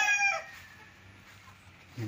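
A rooster crows briefly on a walled one-hectare farm lot in Liliw, Laguna, among bred chickens, a short fairly faint call that fades into quiet with a low cluck at the end.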